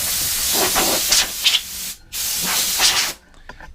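Short, loud bursts of compressed air blow dirt off a generator, two long hissing blasts with a brief gap between them and a couple of quick puffs inside, then quieter handling noise.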